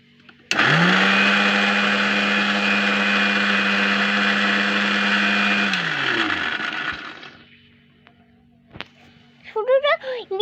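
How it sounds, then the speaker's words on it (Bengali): A kitchen mixer grinder blending food starts abruptly with a loud, steady whine, runs for about five seconds, then winds down to a stop before a voice briefly speaks. "চলো মিক্সারে আমরা এখন বাটবো।"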